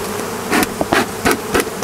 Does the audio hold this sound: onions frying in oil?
no